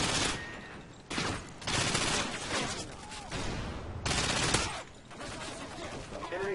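Rapid automatic gunfire from a fast-shooting weapon in Call of Duty: Modern Warfare 2, loud dense bursts with short pauses between them, close and dominant.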